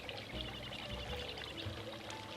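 Water pours in a faint, steady stream into a saucepan holding sliced strawberries over medium heat, a soft continuous trickle with no voices.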